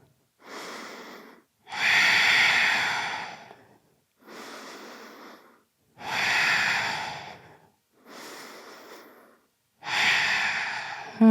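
Heavy, close breathing during a yoga standing split in a strong vinyasa flow: about six loud, rhythmic inhale and exhale cycles separated by brief pauses, with no talk.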